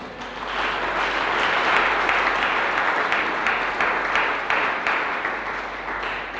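A French-speaking church congregation applauds steadily through a Sunday Christmas-day worship service, a dense, even wash of many hands clapping that stays loud and unbroken throughout.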